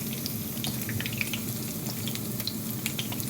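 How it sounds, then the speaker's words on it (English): Onions simmer in a pan with a soft, continuous sizzle dotted with small crackles and pops, close and moderately quiet, with no talking. "It's going to simmer a little bit."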